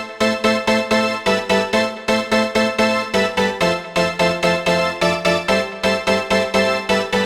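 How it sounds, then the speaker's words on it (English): Serum synth preset Synth Legacy, a melodic-drop lead for tech house and indie dance, playing a bright, pulsing pattern of rhythmic stabbed chords with short gaps between notes, loud and steady throughout with no voices. "Then next up we have Synth Legacy"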